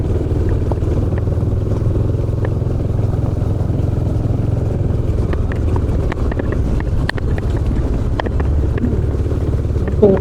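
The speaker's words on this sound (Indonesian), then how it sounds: "pakai motor KTM, guys, jadi jalan jelek ini nggak kerasa" KTM motorcycle ridden along a rough gravel road of grey-brown stones toward Karangbokor beach, with a steady engine drone, wind buffeting and scattered stone clatter throughout.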